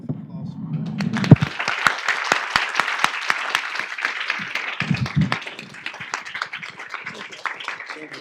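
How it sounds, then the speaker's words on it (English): A room of workshop attendees at a climate-model tutorial session breaks into applause, a burst of scattered claps that swells and then thins over several seconds, with voices mixed in. "I just wanted to make sure that we give a round of applause for that"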